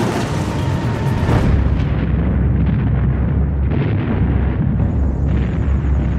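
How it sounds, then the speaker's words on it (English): Heavy enemy artillery bombardment pounds Henderson Field in wartime, a dense, continuous roar of shell explosions and rumbling booms that stays loud throughout with no voices. "It's still in American hands, but under heavy enemy bombardment."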